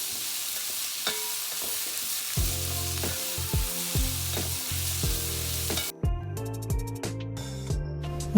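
Garlic and green chillies fry on a high flame for chicken fried rice, giving a steady close sizzle; partway through, loud tonal music comes in over the frying.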